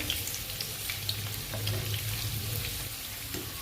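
Masala urad dal vada dropped into hot oil sizzle and bubble steadily, a close, continuous crackling fry with a faint low hum beneath and no talk.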